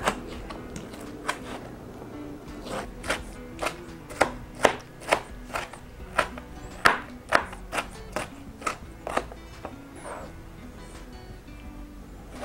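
A knife chops vegetables on a cutting board for a mild pico de gallo, giving a slow, irregular series of about twenty crisp, close knocks with short gaps between them and no talking.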